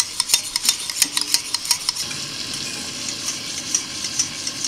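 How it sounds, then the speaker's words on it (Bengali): Yogurt whisked with a little salt in a bowl, a rapid run of close, light clinks and scraping strokes for the first two seconds, then a softer, steady background hiss. "একটু নুন দিয়ে দইটা ফেটিয়ে দিচ্ছি"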